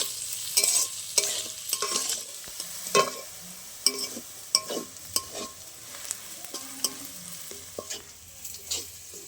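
Crushed ginger, garlic and onion frying in oil in a pan, a steady sizzle broken by repeated sharp scrapes and taps of a spatula, close and loud with no voices.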